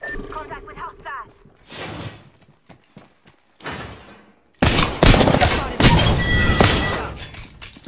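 Gunfire in the video game Apex Legends comes as bursts of sharp, loud shots, sparse at first between game voice lines, then a dense, sustained barrage in the second half.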